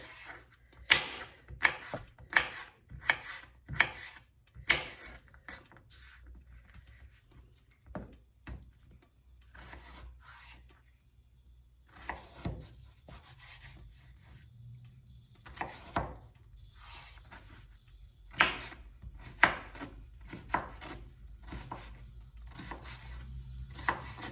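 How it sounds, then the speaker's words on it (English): A knife chops potatoes into chunks on a cutting board, with a rapid run of crisp thuds at the start and sparser, irregular cuts afterward, all close and fairly quiet. "So I'm just going to cut these into chunks, cubes, whatever you want to call it."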